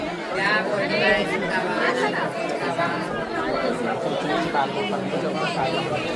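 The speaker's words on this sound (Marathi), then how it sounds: "मित्रांनो तुम्ही बघू शकता गर्दी, खतरनाक गर्दी आज." A large crowd at Jejuri temple chatters densely and without pause, many voices blending into a loud, close, continuous hubbub.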